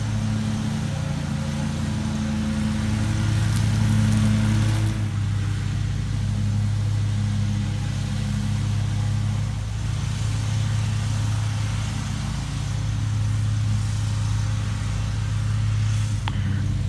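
A John Deere Z930M zero-turn mower with its deck chute closed runs steadily while mulching piled leaves, giving a loud continuous engine drone with a low hum throughout and no speech.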